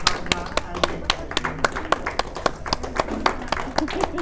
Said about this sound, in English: you got an audience out there that's starting to clap.